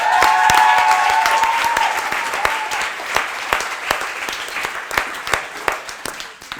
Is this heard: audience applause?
yes